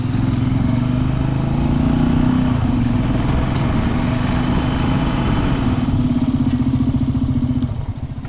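Janus motorcycle engine running steadily on a ride toward beach dunes, a loud continuous low droning rumble with throttle variation, easing off near the end.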